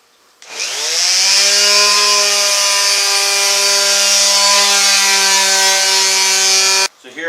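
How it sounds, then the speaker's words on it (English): Close, loud power sanding on a Douglas fir 2x4, a steady whining buzz that starts abruptly, runs evenly for about six seconds and cuts off, with no talking. "They're all going to be sanded and routed, and I'm just smoothing this up."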